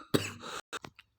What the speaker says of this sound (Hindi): सॉरी, वो थोड़ी खांसी आ गई थी।